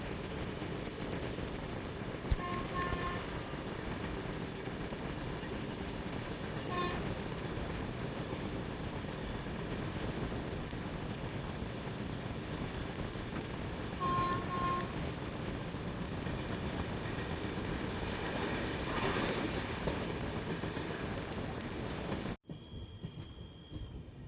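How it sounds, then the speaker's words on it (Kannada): A passenger train travelling from Belagavi to Mysore, heard from on board as it enters Mysore city, keeps up a steady, loud rumble with rail clatter and occasional squeals for over twenty seconds before the sound drops away sharply. "ಫ್ರೆಂಡ್ಸ್, ನಮ್ಮ ಟ್ರೈನ್ ಈಗ ಮೈಸೂರು ಸಿಟಿಗೆ ಎಂಟ್ರಿ ಆಗಿದೆ."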